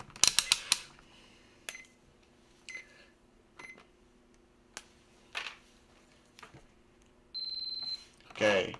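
Continuity tester checking the pins of a USB connector on an ESP32 board: one steady, high-pitched beep lasting under a second near the end, surrounded by faint clicks, handling taps and brief noises.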